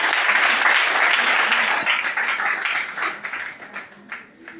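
A church congregation claps together in a loud, dense burst that gradually thins and fades, with some voices mixed underneath.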